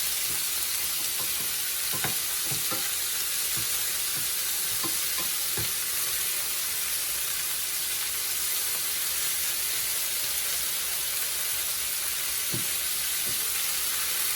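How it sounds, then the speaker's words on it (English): Shrimp sizzle steadily in a hot frying pan, a constant hissing sear with a few scattered clicks and taps. "So I'm gonna push this over, sear the other side"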